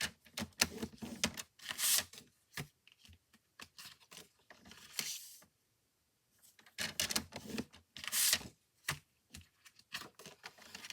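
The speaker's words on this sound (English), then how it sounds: "This is one of my must-haves, which is our paper trimmer." A paper trimmer slices cardstock for card-making, with several sharp sliding swishes spread apart and scattered light clicks and handling noises between them, all close and fairly quiet.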